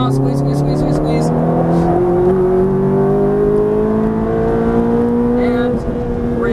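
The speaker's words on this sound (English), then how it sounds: "Now start squeezing that throttle all the way out." A Ferrari F430 engine pulls hard under full throttle on a race track, its close, loud tone climbing steadily in pitch as it accelerates, with a voice talking over it.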